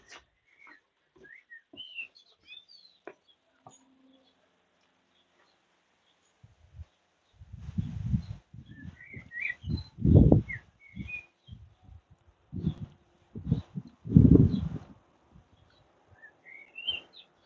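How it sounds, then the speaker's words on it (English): Birds sing outdoors on a sunny, warm day in Blackpool, with scattered high chirps and whistles at a moderate distance, while muffled low rumbles and thumps rise in the middle. "just leave you to listen to the birds for a second"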